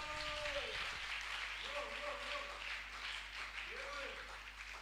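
Congregation applauding during a church worship service, a steady wash of many hands clapping at a distance with faint tones and voices beneath.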